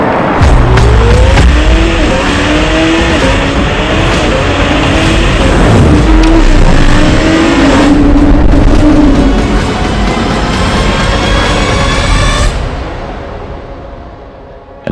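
A Lamborghini Temerario drives hard with its engine revving loudly through rising gear pulls and its tires squealing, then fades away at the end.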